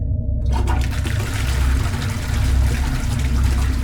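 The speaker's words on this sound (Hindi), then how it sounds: "वॉशरूम में खुद ब खुद फ्लश चलने की आवाज़ आती है।" A toilet flushing in a washroom, a loud close gushing rush of water that starts abruptly and runs steadily throughout with no voices.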